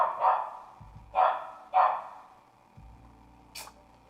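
A dog barks three times in quick succession, loud and close, followed by a softer fourth yelp a couple of seconds later, with no talking over it.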